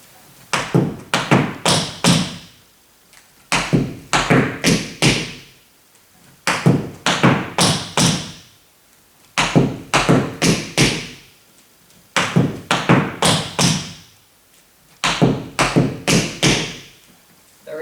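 Jazz tap dance steps come as short bursts of rapid, crisp taps and thuds in repeating phrases separated by brief pauses, close and clear, with no talking.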